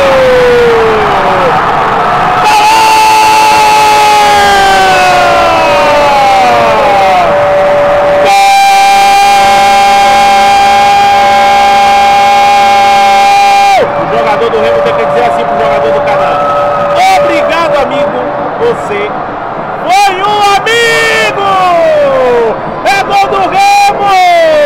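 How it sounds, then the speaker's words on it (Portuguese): Remo football supporters fill Mangueirão stadium during a Paraense championship match with a dense roar of crowd noise and long blaring horn blasts. The din runs continuously, with commentary spoken over it. "A torcida azulina faz a festa mesmo assim"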